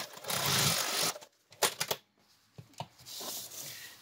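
Domestic sewing machine stitching paper-pieced quilt fabric, a short whirring run followed by a few clicks and handling noises, then another brief stretch of stitching, close and fairly quiet.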